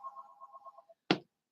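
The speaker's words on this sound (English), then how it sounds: "My phone's ringing and we don't answer it if it's spam risk or any of that crap." A mobile phone rings with a short repeating electronic ringtone, faint and close, then stops, followed by a single brief knock or click.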